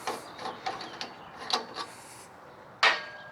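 Unscrewing a BullGear 4x4 Sherman Cap from an ARB air chuck on a 2020 Jeep Gladiator, a series of faint close clicks and ratcheting scrapes followed by one sharper, louder click near the end.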